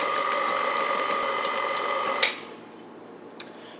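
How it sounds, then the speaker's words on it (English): Stand mixer running steadily as it folds chocolate chips into pumpkin bread batter, a continuous mechanical whir with a clunk as it stops, then a faint click. "Now we're just going to turn this on well enough to incorporate the chocolate chips into the batter"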